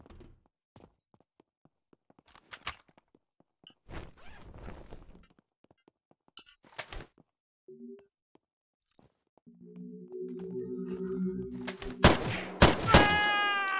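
Gunfire in the video game Unturned on a Brazilian extraction-mode server: a few scattered single shots early on, then a dense, loud burst of rapid shots near the end, mixed with tonal game sounds.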